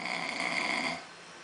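A man snores steadily for about a second in a single drawn-out raspy breath, close and fairly loud, then it fades into quiet background hiss.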